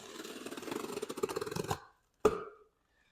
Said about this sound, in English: Got myself a little trusty box opener.